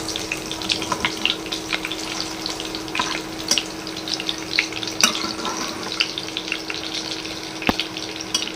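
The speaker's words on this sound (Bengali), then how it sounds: "এখন কিমা পেঁয়াজিগুলো ভেজে নেব।" Hot oil sizzles and crackles steadily as minced meat fritters deep-fry, with scattered sharp pops over a constant hiss.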